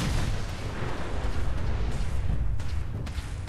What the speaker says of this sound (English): Why do they all explode?